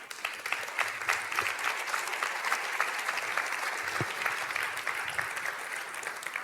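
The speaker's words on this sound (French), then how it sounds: "Je vous demande un applaudissement pour Laurent." Audience at a marketing conference applauding a guest, dense continuous clapping from a sizeable crowd, steady and moderately loud throughout, with no talking over it.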